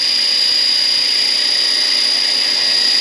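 A radio-controlled scale Bell Huey 412 helicopter running at half throttle, a loud, steady high-pitched whine with a constant electric motor tone, close by and uninterrupted, with no speech.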